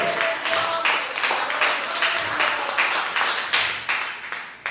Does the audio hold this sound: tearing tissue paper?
no